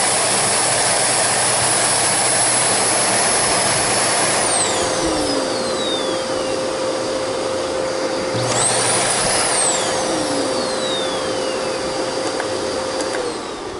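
A canister vacuum cleaner with a Chinese-made motor runs without its power head, loud and steady with a high-pitched whine, its pitch sweeping down and back up twice partway through.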